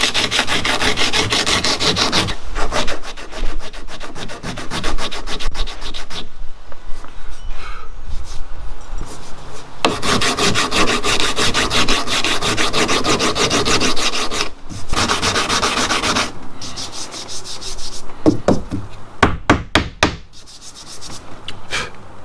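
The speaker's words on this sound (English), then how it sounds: "So I'm just going to knock the worst of this back with this sanding bat." Sanding a flat gel repair with a sanding bat produces continuous rasping strokes, steady and close, with a few short pauses and quicker scrubbing bursts near the end.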